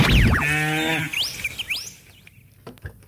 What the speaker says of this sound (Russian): Знакомая корова промычала.